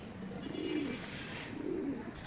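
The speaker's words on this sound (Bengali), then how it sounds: "মাটি কবুতরটা ডাকতেছে, ডাকটা দেখেন মাশাআল্লাহ অনেক সুন্দর" A pet pigeon coos twice, close by, each soft throaty call rolling out in the same even rhythm against a quiet background.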